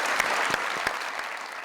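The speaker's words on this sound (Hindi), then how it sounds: "बहुत सारी तालियां" A studio audience on a talk show claps in a brief, even burst of applause, with a few sharper individual claps standing out.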